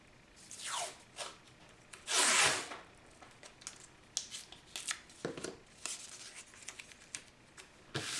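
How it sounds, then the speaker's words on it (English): Tape is stretched and pressed down onto watercolor paper, giving close, quiet ripping and rubbing bursts, one longer peel in the middle, with no talking. "So I just stretch the tape, making sure you're holding on"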